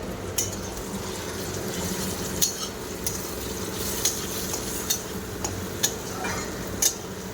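Ginger and garlic paste frying with already fried onion and tomato in a pan, a steady close sizzle broken by sharp, irregular clicks of a utensil against the pan, with no voices.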